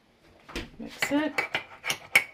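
A spoon scrapes and clinks against a mug while stirring chocolate and peanut butter mug cake batter after milk is added, giving a close series of short taps and scrapes in an irregular rhythm.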